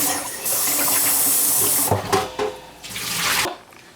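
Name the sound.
washing mixed dahl lentils under running water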